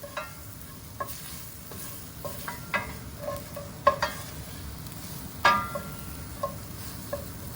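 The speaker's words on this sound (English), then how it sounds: "And then I'm going to stir in the 2 tablespoons of flour." Flour is stirred into beef stroganoff in a pan, a spoon scraping and tapping at irregular intervals over a soft, steady sizzle, close and without talk.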